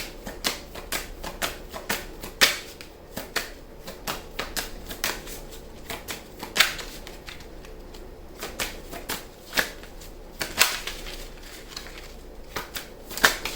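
Tarot cards are shuffled and drawn by hand in a quiet room, giving sparse, crisp snaps and slaps with soft rustling in between, close and intimate, with no voices.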